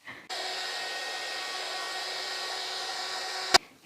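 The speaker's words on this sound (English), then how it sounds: "I've got a heat gun, so I'm just going to do that to make the process even quicker." Heat gun blowing hot air over handmade autumn craft pieces: a steady, loud, even whoosh that starts suddenly and runs for about three seconds before a brief knock and shutoff.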